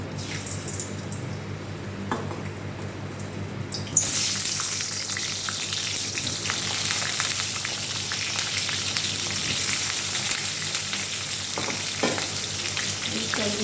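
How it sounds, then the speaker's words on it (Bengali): Potatoes frying in oil in a wok for an egg curry. A soft sizzle jumps suddenly to a louder, dense, crackling fry that stays steady and close. No speech. "দেখো আমি আলুটাকে ভেজে নিয়েছি লাল লাল করে"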